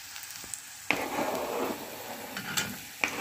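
Ginger and garlic sizzle steadily in a hot pan for a horse gram curry, with a continuous frying hiss broken by a few sharp scrapes and clinks of a stirring utensil.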